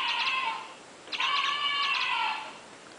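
A pet talking bird named Orange gives two bursts of bright, warbling chirps with rapid tonal trills, the second longer, close and fairly quiet, with a short pause between them.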